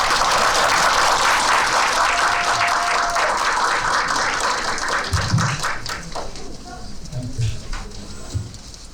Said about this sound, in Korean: 힘찬 박수로 안순남 대표님을 한번 모셔보도록 하겠습니다.